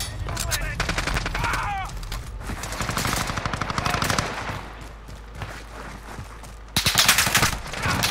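Rapid automatic gunfire, including a P90, in the video game Call of Duty Modern Warfare. Dense bursts of shots come from all around and peak in a louder volley near the end, with a voice partly audible underneath.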